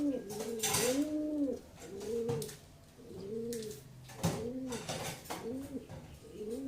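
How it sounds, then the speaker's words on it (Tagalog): Pet pigeons coo in close, repeated rounds, each soft throaty phrase rising and falling, with short pauses between bursts and light background noise. "mga kalapati at mga alagang kalapati"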